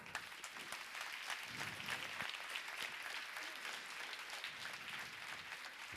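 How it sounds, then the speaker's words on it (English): Conference audience at the PM Summit 2023 opening applauds a co-host: a fairly faint but continuous patter of many hands clapping, steady from start to finish. "your applause, of course, for Elena Elenkova"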